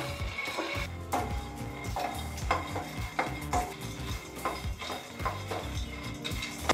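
Peanuts dry-roasting in a pan over a low flame for chutney powder, stirred with a utensil, giving repeated dry rattling and scraping strokes in an uneven rhythm, close and clear.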